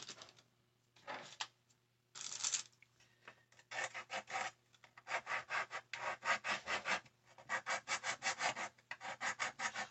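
A rotary tool with a diamond bit grinds a jumbo popsicle stick in short raspy bursts, starting sparse and then settling into a quick regular rhythm of close abrasive strokes, with no talk.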